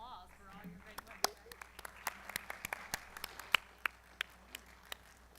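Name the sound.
audience applause at a dinner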